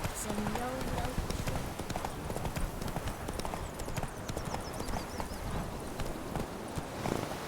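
Horse hooves clip-clopping steadily as a rider trots along in the video game The Witcher 3, a continuous close rhythm of hoofbeats with a voice speaking over it.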